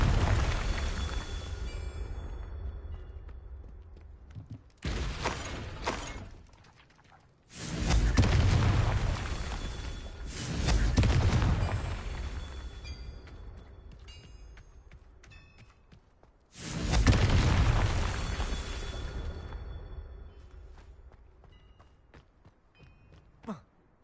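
Confringo spell blasts in the video game Hogwarts Legacy go off as several loud, booming explosions in quick succession, each followed by a long rumbling decay, with a brief quieter gap between bursts.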